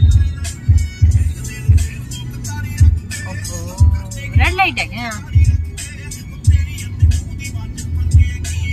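Morning road traffic during the office commute, heard from inside a moving vehicle: engine hum and passing cars with repeated low thumps, under steady conversation.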